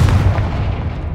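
A Confringo fire-blast spell goes off in Hogwarts Legacy, a loud, heavy booming blast with a deep rumbling body that fades out over about a second, with no voices present.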